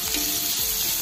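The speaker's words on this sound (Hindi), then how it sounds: "प्याज को हम अच्छी तरह से गोल्डन होने तक भून लेंगे" Onions frying over medium heat in a pan for a Hindi-style chana dal palak dish, giving a steady, dense sizzle that runs continuously throughout without pause and with no talking.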